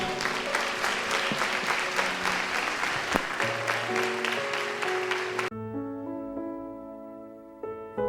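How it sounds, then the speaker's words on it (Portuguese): A church congregation at a Baptist service claps loudly for about five seconds, then the applause cuts off and sustained keyboard chords continue alone. "Vamos aplaudir o seu nome."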